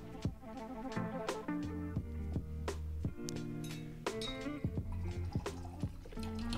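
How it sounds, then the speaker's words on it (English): A watercolor brush swishes and taps in a water jar, a series of close, faint clinks and liquid drips spread irregularly with quiet pauses between them. "And rinse our brush."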